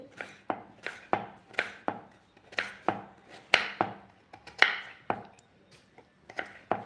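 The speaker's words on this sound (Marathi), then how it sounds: "बघा मी आलू सर्व असा आलू चिरून घेतला मस्तपैकी" A knife chops potatoes steadily on a cutting board, sharp regular taps close by, with a brief pause before the chopping resumes.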